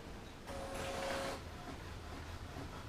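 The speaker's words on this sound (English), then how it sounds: "Sending to the printer." A Sawgrass SG400 printer prints for under a second, a steady mechanical whir with a faint tone, quiet against room hiss and then fading back to near silence.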